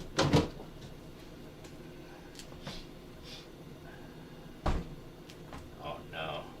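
A refrigerator drawer being pulled out during cleaning: two hard plastic thumps and rattles several seconds apart, with softer scraping and breathy vocal sounds in between.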